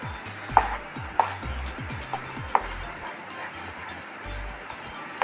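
Thick rice halwa being stirred in a small pan, a few distinct scraping knocks of the spoon against the pan spaced about half a second apart, set over a low steady background hum, with no talking.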